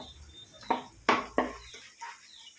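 Curry leaves crackle in hot oil with grated coconut in a pan while pork fry is being prepared: three or four sharp, close spits and pops over about two seconds, then a soft background hiss.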